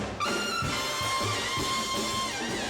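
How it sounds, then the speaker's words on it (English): A trumpet playing a short run of sustained brassy notes, close and steady in loudness. "Now, a trumpet should look like this"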